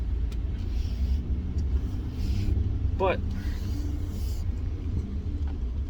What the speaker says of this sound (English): a small weird noise coming from the exhaust. I think I may have a leak somewhere.